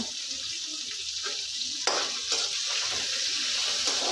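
Tomatoes and curry leaves sauté in a pan for a black sesame chutney, giving a soft steady sizzle with a few scraping stirs, fairly quiet and with no talking.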